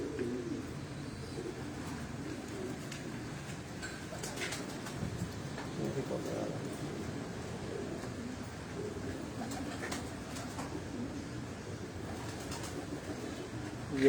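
Champion-bred, high-pedigree pigeons coo in low, rolling phrases that repeat steadily over a soft, constant background, close and moderately loud throughout.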